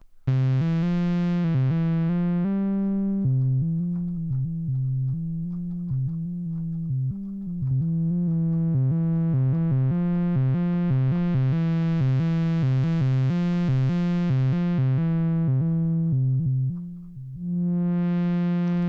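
A fat, buzzy synthesizer tone holds steady while its filter cutoff sweeps open and closed, the sound brightening then darkening again, loud and up close.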